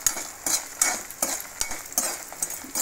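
Urad dal being fried with reddened chili powder in a pan, a steady crackling sizzle broken by rhythmic scraping strokes of a spoon about twice a second, close up with no talking.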